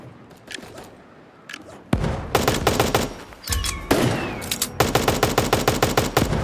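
Automatic gunfire rattles through a battle royale video game tournament match. Faint sparse shots come first, then loud dense bursts of rapid fire begin around two seconds and continue with short gaps.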